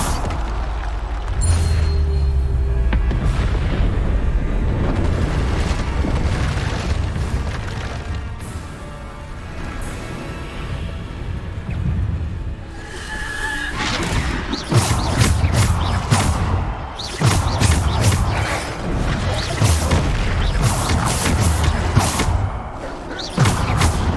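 Bombarda explosion spells blasting again and again in the video game Hogwarts Legacy, a dense run of loud booming hits and crashes over a busy, layered game soundtrack with no pause between impacts.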